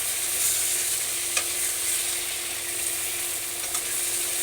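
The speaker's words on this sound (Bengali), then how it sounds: "আমি আলুগুলোকে একটু ভেজে নিচ্ছি। আলুগুলো কড়াইয়ের মধ্যে দিয়ে এভাবে করে একটু মিশিয়ে নেবে।" Sliced potatoes frying in hot oil in a wok, a steady close sizzle with soft stirring scrapes and a couple of brief clicks, no voices.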